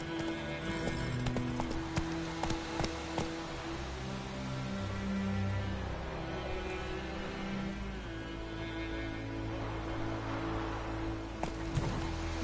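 Hooves of Roach, the horse in The Witcher 3, clip-clop steadily at a gallop, close and rhythmic, over a low ambient game score with sustained tonal music and an occasional whinny-like sound.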